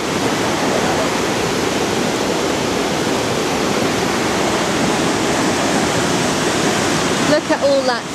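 Aysgarth Falls waterfall in the Yorkshire Dales, a loud steady roar of rushing water heard up close, continuous throughout with a brief bump of handling noise at the end.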